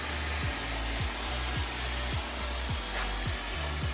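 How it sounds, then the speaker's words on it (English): A Dyson Airwrap hair styler blows steadily while curling hair, a constant close airflow rush with soft regular thumps and rubbing roughly every half second as the hair wraps and releases. "Move the Dyson in and out like that, it wraps the hair, and then it releases."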